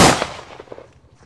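A single sharp gunshot sound effect bursts loudly and then fades in a short echoing tail, with no talk.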